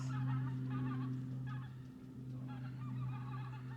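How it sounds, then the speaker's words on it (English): A flock of geese flying south honks continuously in the distance, many overlapping calls over a steady low drone. "Bunch of geese flying south."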